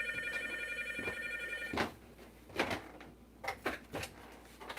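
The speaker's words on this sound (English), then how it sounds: "the phone is ringing. Of course the phone is ringing." A telephone rings with a sustained electronic trill, followed by several sharp knocks and thumps nearby.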